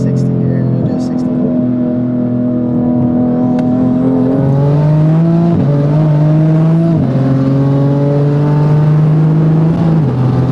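Toyota Supra MK5 fitted with a custom MK4 Supra exhaust accelerating hard, a steady droning engine note climbing through several gear changes, heard from inside the car under occasional talk.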